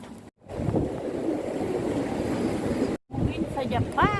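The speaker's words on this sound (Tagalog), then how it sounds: "Ganyan ang hangin ang bagyo sa Japan." Strong typhoon wind in Japan roaring steadily as a broad rushing noise, cut by two brief silent gaps, with faint voices toward the end.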